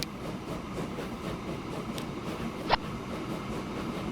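A coal freight train running in Transport Fever 2 gives a steady, moderately loud rail rumble throughout, with one brief sharp screech partway through and no talk.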